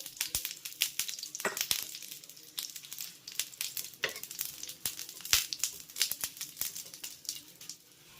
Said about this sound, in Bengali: একটু সামান্য সাদা তেল দিয়ে পরোটাটিকে খুব ভালোভাবে ভেজে নিতে হবে